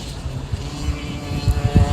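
A go-kart runs on the track at the Douvrin circuit, its engine a steady low drone that swells and fades as it passes at moderate distance, with no talk over it.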